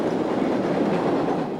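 A Long Island commuter train rumbles past, loud and close, with a steady rushing roar and faint clickety-clack of wheels on rails, with no voices.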